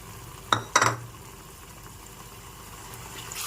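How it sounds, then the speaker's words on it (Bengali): In a pan holding whisked yogurt and a little water for dahi aloo dum, a spoon gives two quick metallic clinks while stirring. A soft, low background hum follows, with no voices. "ভালো করে নেড়েচেড়ে মিশিয়ে নিতে হবে"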